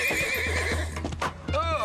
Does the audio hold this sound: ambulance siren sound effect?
no